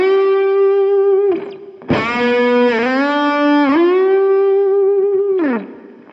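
A distorted electric guitar plays a lick of three string bends joined by slides, the bent notes sustained loud and singing, each rising and releasing before sliding higher, with no voices.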